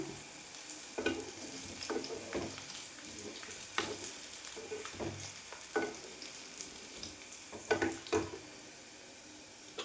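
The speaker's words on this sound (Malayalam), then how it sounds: "ഇഞ്ചി ഉള്ളിയൊക്കെ നന്നായിട്ട് മൊരിഞ്ഞിട്ടുണ്ട്" Ginger and onion sizzle in hot oil with a constant crackle, broken by intermittent scraping and stirring clatters from a utensil in the pan.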